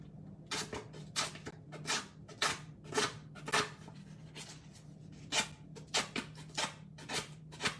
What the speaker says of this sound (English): So you take your scissors and do it like this.